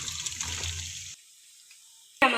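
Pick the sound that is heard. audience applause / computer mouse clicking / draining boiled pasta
draining boiled pasta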